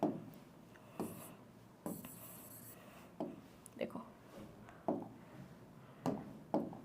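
Chalk or marker taps and scratches on a board during a lesson, short strokes coming in irregular bursts every second or so, faint and close, with a teacher's soft speech between them.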